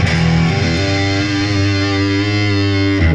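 Electric guitar played through a Colour Box distortion pedal, a thick sustained distorted chord ringing loudly and evenly for a few seconds before cutting off.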